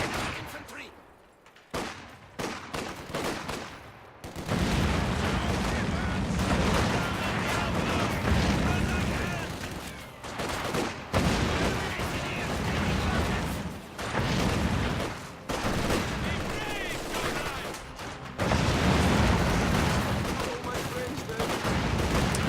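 MG42 machine gun chatter mixes with heavy battle fire in a real-time strategy match, crackling bursts and booming impacts rolling on almost without pause, loud and layered over ongoing commentary.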